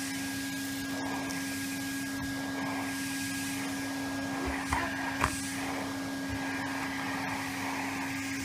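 Steady close drone of a running Henry Hoover vacuum cleaner sucking up crumbs, with a few brief bumps and rattles as the nozzle moves over the floor.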